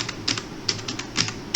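Fingers type on a computer keyboard in a quick run of crisp clicks, roughly nine keystrokes in under two seconds, close up over a low background hum.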